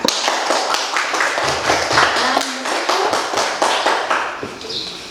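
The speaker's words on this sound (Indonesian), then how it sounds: "kita berikan aplaus untuk kelompok 3" Applause from a class in an Indonesian classroom session, given to a student group: steady, brisk hand clapping from a small crowd, close and continuous throughout, with no talking.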